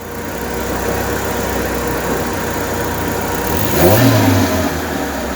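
A Peugeot 106 with a homemade turbo runs close by, its engine humming steadily before rising into a short rev surge near the end, then settling again, with no talk over it.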